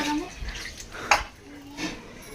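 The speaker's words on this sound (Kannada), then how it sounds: "ಅರ್ಶಿಯ ಬಾಂಡೆ ತೊಳಕತ್ತಲ್ಲ ರೀ" Vessels are being washed with water in a home kitchen: faint splashing and a brief metallic clink, with a voice speaking nearby.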